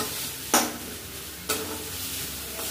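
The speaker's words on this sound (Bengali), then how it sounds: "মশলাটা ভালো করে মিশিয়ে নিয়েছি" Masala for chicken biryani fries in a pan under a soft sizzle, with two distinct scraping strokes of a spoon stirring it, close and moderately loud.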